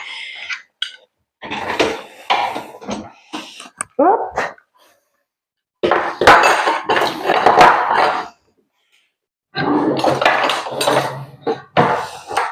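Metal cutlery clinks and rattles in bursts as pieces are lifted from a dishwasher's top drawer, with short pauses and a brief spoken word partway through.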